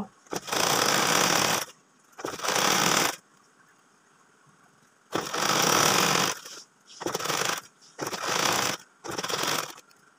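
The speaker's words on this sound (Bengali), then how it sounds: "পাইপিং করে এইভাবে সেলাই করে নিচ্ছি" A sewing machine stitches piping onto a small child's top in several loud, close bursts of rapid mechanical whirring, separated by short pauses, with no talking.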